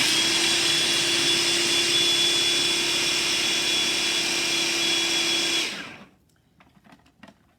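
A food processor whirs steadily as it blends a batch of ingredients, a loud continuous motor drone with a high whine that runs alone for several seconds, then stops abruptly and leaves only faint clinks.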